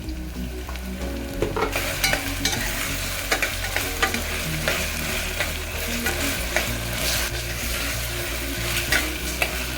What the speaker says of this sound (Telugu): అల్లం ఎల్లిగడ్డ వేస్తాం